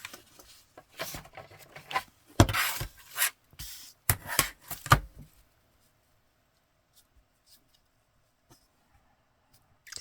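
Scissors snip through a strip of paper trim along its stripe, a run of close, crisp cuts and rustles over about five seconds before falling quiet.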